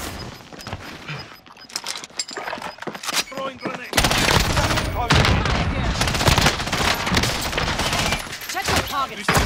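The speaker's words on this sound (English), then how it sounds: "We going out shooting." Rapid gunfire rattles in Call of Duty: Modern Warfare, with scattered shots at first and then dense, loud sustained bursts from about the midpoint, with game noise around them.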